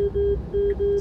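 A Tesla Model 3 sounds its lane departure warning. Three steady, loud electronic beeps of equal pitch come in quick succession over a low cabin hum.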